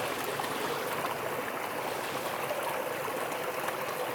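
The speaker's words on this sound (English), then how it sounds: "This is a really good find. I can use this creek." A forest creek flowing through a canyon, giving a soft, steady rushing and trickling wash with no other sounds or voices.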